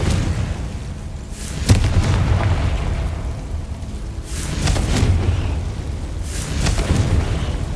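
Confringo fire-blast spells exploding in Hogwarts Legacy, three separate booming bursts a few seconds apart, each starting with a sharp crack and fading into a rolling rumble.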